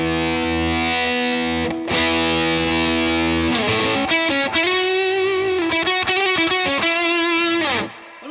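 An electric guitar played through a PedalPCB Bohemia DIY pedal gives heavily distorted, sustained chords and single notes, then a rhythmic run of choppy chords, loud and alone.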